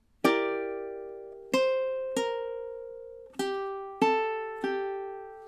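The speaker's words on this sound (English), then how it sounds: "So measure 14 in time should sound something like this." A ukulele plays one measure of a song as six clear plucked notes, each ringing out and fading before the next, alone and close.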